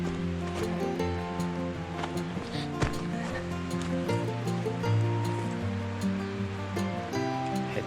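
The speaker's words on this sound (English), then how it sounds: "I can hear actually water running." Water running down in a wooded valley along a hiking trail, a steady rushing flow heard under a musical background throughout.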